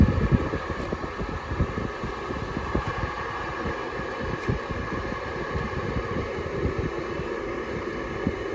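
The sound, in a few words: air-cooled Porsche 911 heater blower fan running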